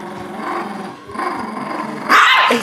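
A small chihuahua growls steadily up close, its low rumble building before it breaks into a sharp, loud bark at the end.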